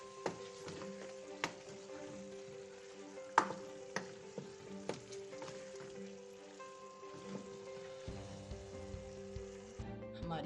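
A spoon stirs liver masala in a pan after fenugreek leaves are sprinkled in, giving soft close scraping and clinks with sharp metallic taps against the pan over a faint steady sizzle.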